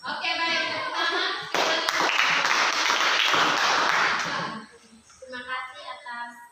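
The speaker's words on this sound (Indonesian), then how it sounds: "Oke, baik, tepuk tangan." Clapping from a group in a classroom session, a dense burst of hand claps swelling for a few seconds before thinning out as voices return.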